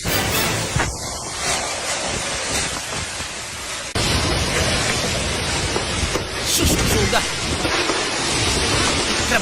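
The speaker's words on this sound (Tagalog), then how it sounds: "Nagdaguok ang hangin?" Strong wind roars and buffets continuously, loud and close, with gusts swelling toward the end.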